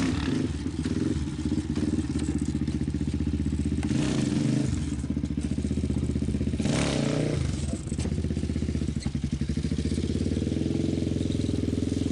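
ATV quad engine running steadily through a series of wheelies, a loud continuous motor drone with slight rises and dips as the clutch is worked, close to the microphone with no talking.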